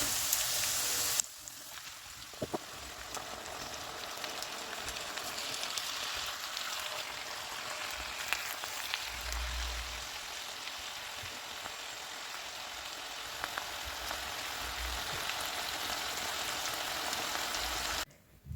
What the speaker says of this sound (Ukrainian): До підсмажених овочів додаю гриби, сіль та перець і смажу ще хвилин 20.